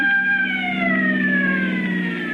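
Fire engine siren wailing just outside in a 1936 radio drama, a loud, steady descending tone sounding alone.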